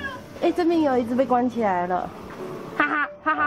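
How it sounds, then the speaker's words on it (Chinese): A cat meows a few times close by, short tonal cries mixed in with a woman's nearby chatter and laughter. "这边有一只猫在叫"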